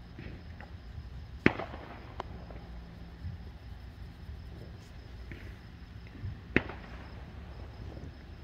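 Fourth of July fireworks set off outdoors at night, a few sharp distant bangs and pops spaced seconds apart over a quiet background hum of insects.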